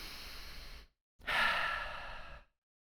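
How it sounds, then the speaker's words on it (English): Slow, deep breathing with two long breaths, the first a softer inhale lasting under a second, then a brief pause and a stronger, drawn-out exhale like a sigh, close and clear with no talk. "slow breathing, the deep breathing"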